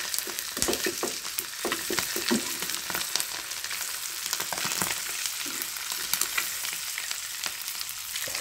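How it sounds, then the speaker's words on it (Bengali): Eggs fry in a pan while potatoes cook for a spiced egg dish, a steady crackling sizzle with sharp pops and spits throughout, close and continuous with no talking. "আর ডিমটা ভাজা দিলে একটু ফোটে, একটু সাবধানে ভাজতে হয় দূরে থেকে।"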